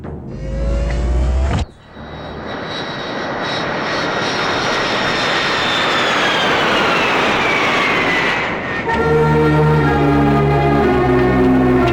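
Loud, steady aircraft engine drone of a plane in flight, a broadband roar with a slowly falling whine that dips briefly near the end before resuming with low tonal hum.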